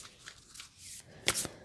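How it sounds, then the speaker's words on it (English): Oracle cards shuffled and drawn by hand in a short flurry of soft riffling, closing with a couple of sharper snaps of cards pulled from the deck, close and fairly quiet. "I just want to pull 2 additional oracle cards just to get 2 more messages for you."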